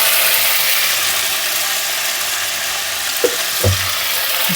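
Ginger and green chili paste fries in a hot pan for a fish curry with cauliflower, a loud, steady sizzle with a couple of brief scraping knocks from stirring near the end.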